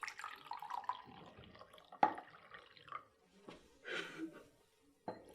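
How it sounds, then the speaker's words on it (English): Water poured into four glasses one after another, with irregular splashing and dripping bursts of varying loudness, some sharp clinks and short pauses between pours. "I would like you to first pour water into these 4 glasses, so they have an equal amount of water and are nearly full."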